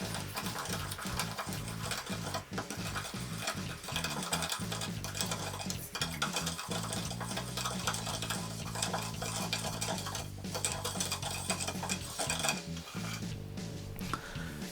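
Continuous stirring and scraping of a spoon through a thick mixture of beef, chili powder and black pepper in a bowl, steady and close, with occasional clinks.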